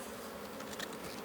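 Dense, steady drone of honey bees swarming over crowded frames inside an open hive, close and continuous, with slight swells in intensity and no voices.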